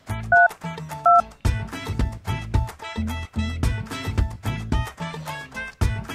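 Two short touch-tone dialing beeps sound near the start, followed by a rhythmic, melodic run of electronic tones that continues to the end.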